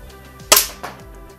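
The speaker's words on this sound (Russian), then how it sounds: "Пистолетик китайский, и не всегда он почему-то срабатывает." A cheap Chinese toy pistol goes off with one sharp, loud, close crack, followed a third of a second later by a softer second snap, with nothing else but a faint low hum and no voices.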